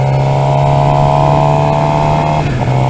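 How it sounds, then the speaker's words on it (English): A motorcycle engine revving loudly and close by, holding a steady, droning pitch before dipping briefly near the end, with no talking. "He's probably going to be like, why are you revving so much?"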